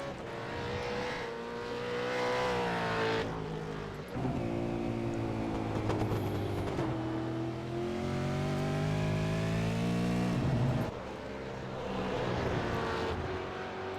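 A RUF supercar racing engine at the Spa circuit, heard in a sim race, revs hard and continuously, rising through gears with brief drops at each shift, loud and close throughout.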